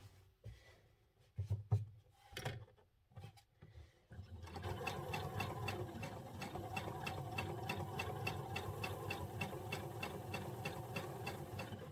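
A sewing machine stitches across a hoodie welt pocket in a steady, rapid mechanical run after a few scattered handling clicks and taps, close and continuous to the end.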